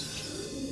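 A champion racing pigeon cooing softly, a brief quiet call with no voices.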